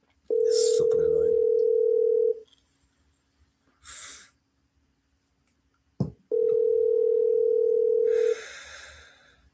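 A telephone call rings out unanswered in two long, loud electronic tones separated by a pause, with breathing and muffled sounds in between and quiet hiss after.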